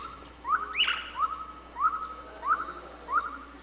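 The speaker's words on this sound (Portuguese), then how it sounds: "esse passarinho que está cantando, eu não consigo imitar" A small dove, the rolinha, calls in the Brazilian cerrado, its short rising notes repeating at a steady pace about every two-thirds of a second, moderately close over faint insect and bird background.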